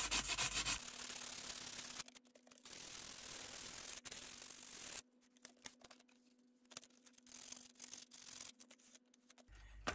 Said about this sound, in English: Sand the other side.